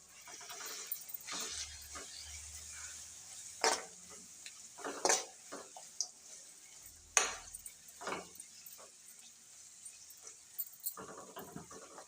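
Tempering being stirred and mixed in a pan for rice and puffed rice, with scattered scraping and clinking strokes of a spoon against metal over a faint sizzle, close by and irregular, without speech.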